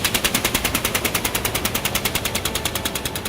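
A split-flap departure board in a Sydney airport lounge clatters continuously, its flaps snapping in a fast, even rapid-fire rhythm that sounds close and fairly loud, with no voices over it.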